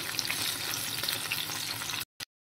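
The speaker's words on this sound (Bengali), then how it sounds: "সমস্ত পেঁয়াজ, আদা, রসুনগুলো আমি কিন্তু একে একে দিয়ে দিয়েছি। এবার আমি ওলট পালট করে একটু ভাজা ভাজা করে নেব।" Onion, ginger and garlic fry in a pan for a chicken malai kabab masala, a dense close crackling sizzle with stirring for two seconds before cutting off abruptly, then one short burst.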